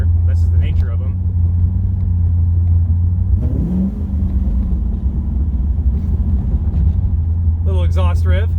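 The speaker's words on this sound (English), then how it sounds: "Little exhaust riff." A cammed Chevrolet Caprice PPV police-package sedan drives along, its engine and exhaust giving a deep, steady rumble from inside the cabin, with a brief swell midway and someone talking briefly at the start and end.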